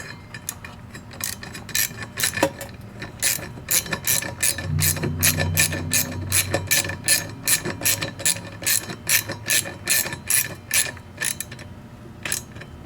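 A ratchet socket wrench, fitted with an extension, a 1/2-inch deep well socket and a universal joint, tightens heat shield bolts for an MGW MT-82 shifter. Close, crisp clicking runs in rapid bursts of strokes with brief pauses between them.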